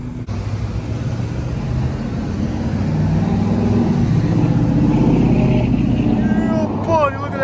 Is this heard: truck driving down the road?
yes